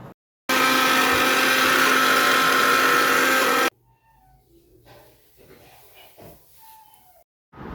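Kitchen blender whirring loudly and steadily for about three seconds while blending green chilies, coriander and homemade tomato sauce, then cutting off abruptly, followed by quieter faint background sounds and a brief restart at the end.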